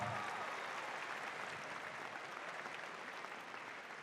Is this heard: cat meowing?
no